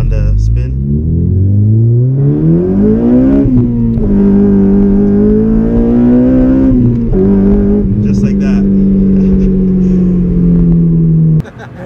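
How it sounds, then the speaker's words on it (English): A Honda Civic Si FA5 accelerates hard in first gear, its engine pitch climbing, then shifts and pulls again, with a loud, close, rising drone and brief breaks at each gear change. Someone talks over it. "when you do that first gear pull and then switch into second, get that typical Honda spin"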